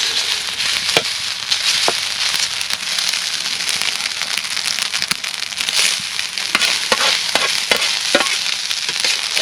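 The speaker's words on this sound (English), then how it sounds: "Little stir fry in the woods." Stir fry sizzling and crackling steadily in a pan over a camp stove in the woods, with occasional scraping stirs and sharp pops, close and continuous.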